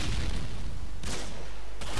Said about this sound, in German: Da kommt der Sniper-Schuss.